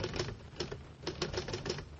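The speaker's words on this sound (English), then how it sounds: "I'll type the expression out for you right now on my Underwood typewriter" Typing on an Underwood manual typewriter: a steady series of sharp, close key strikes, roughly a dozen clacks in uneven rhythm, heard alone with no voices.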